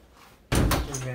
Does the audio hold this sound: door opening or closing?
yes